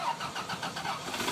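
A 4.3 engine, freshly running again after a fuel pump fix while broken down on a ferry, fires up and settles into a steady, low, throaty rumble, close and continuous with no voices.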